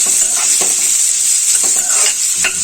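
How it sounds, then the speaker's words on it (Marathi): Chopped onions sautéing in hot oil, a loud bright steady sizzle with a few spaced stirring scrapes, close up and without voices. "कांदा या तेलामध्ये परतवून घ्यायचा"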